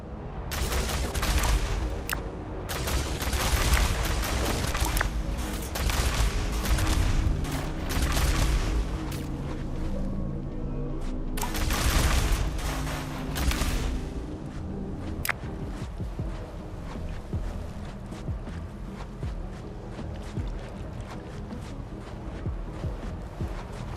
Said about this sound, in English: Large outcrop destroyed by throwing a terraforming charge.